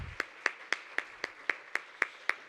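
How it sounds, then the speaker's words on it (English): Single person clapping at a family-focused panel event, about ten crisp, evenly spaced claps close up in a steady rhythm with quiet between them. "can we give Megan, Ronley, Reggie, and Anthony another round of applause?"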